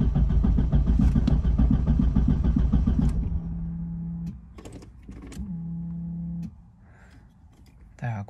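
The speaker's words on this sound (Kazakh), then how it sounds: "оталдырып көрейік, бисмилля" Car engine cranking repeatedly on the starter in a strong rhythmic churn for about three seconds without catching, followed by quieter electrical hums, clicks and brief tones, with a voice speaking.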